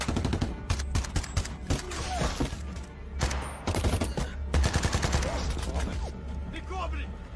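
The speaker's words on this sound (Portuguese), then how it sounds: "Continua atirando!" Dense bursts of gunfire crackle through a war-film battle, rapid volleys and single shots overlapping loudly and continuously, with shouted voices mixed into the fray.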